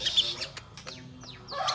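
Song of a red-eyed ara bird used as a master for competition songbirds: a few clear whistled and chirped notes with sweeping slurs, heard close and alone over quiet background.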